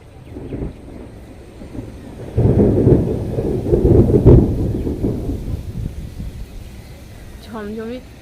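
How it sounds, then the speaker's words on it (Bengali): Low thunder rumbles through steady storm noise, swelling loudly in the middle and then easing, with a brief voice near the end. "বাপরে প্রচণ্ড ঝড় দেখো"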